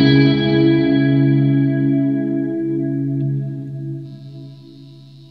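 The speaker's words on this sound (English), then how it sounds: "There's kind of a pad effect." Electric guitar playing an ambient pad with long reverb, a sustained chord-like drone of stacked harmonics that holds steadily and slowly thins out, with a faint buzz and a brief shimmer near the end.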